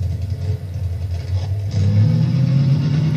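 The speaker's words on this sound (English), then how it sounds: "The Borderland 2 vehicle. Now this one's kind of cool to ride in." Video game vehicle from Borderlands 2 driving, a steady low engine rumble that swells and grows louder partway through as it accelerates, continuous with no talking.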